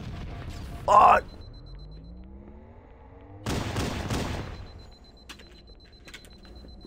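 Grenade blast and gunfire in the Halo CE multiplayer map Hang 'Em High during a Slayer match: a short sharp burst early, then a loud booming explosion with a decaying rumble, with voices talking and yelling throughout.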